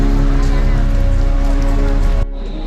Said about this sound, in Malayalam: ഇപ്പം മഴ തൊടാൻ തുടങ്ങിയിട്ടുണ്ട്.